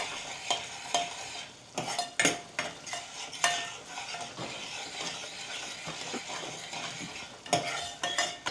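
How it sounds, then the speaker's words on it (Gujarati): Masala being stirred and fried over a high gas flame, with a steady sizzle broken by repeated scraping strokes of a spoon against the pan, close and fairly quiet. "હવે ફાસ્ટ ગેસ કરી અને મસાલો કૂક કરી લઈએ"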